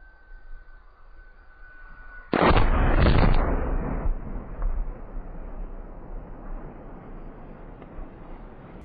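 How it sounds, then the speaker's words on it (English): An added explosion effect stands in for the bursting of a Neutron rocket's second-stage tank. A sudden loud blast lasts about a second, then trails off into a long rumbling decay with no speech. "As a result, Neutron second stage tank popped."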